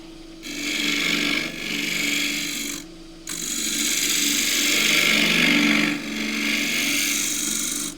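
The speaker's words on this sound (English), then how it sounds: "I need my big end grain scraper." A large end grain scraper cuts green Osage orange on a lathe, producing loud, close, continuous rasping scrapes in several long passes separated by short pauses, over a low machine hum.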